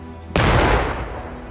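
An explosive ordnance item is blown up by a police bomb squad at a demolition site, a single sudden loud boom that rolls out and decays over about a second.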